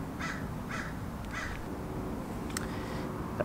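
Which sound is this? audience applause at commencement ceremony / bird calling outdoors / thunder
bird calling outdoors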